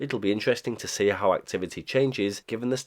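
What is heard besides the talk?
None of the usual background noises is heard.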